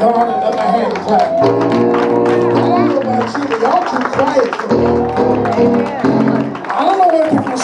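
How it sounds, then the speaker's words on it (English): A church congregation at an anniversary celebration claps hands in a busy, lively room, the clapping mixed under a loud voice that talks or sings throughout. "Give God another hand clap."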